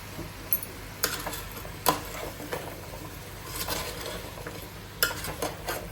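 A spoon stirs gourd curry with salt in a pan, giving sharp scraping clinks at irregular intervals over a soft background sizzle, close by and without talk.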